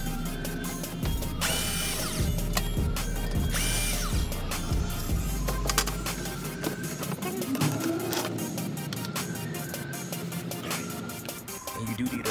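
A 13 mm socket on a ratchet works the oil drain plug loose on a 2012 Dodge Charger V6, with close, loud clicking and clattering tool noise over a steady background hum.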